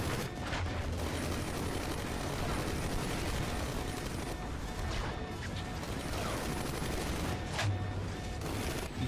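Dense barrage of missile launches and blasts from armored suits in the Iron Man 2 video game, a continuous loud roar of overlapping bursts and explosions with sharp cracks standing out throughout.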